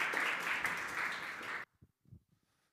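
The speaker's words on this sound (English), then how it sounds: "Can we get a little applause?" Applause from the audience at a university event's opening, a busy burst of clapping that stops sharply after about a second and a half, followed by a few faint thumps and scattered quiet sounds.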